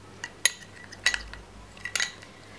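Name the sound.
stirring four ingredients into a paste with a spoon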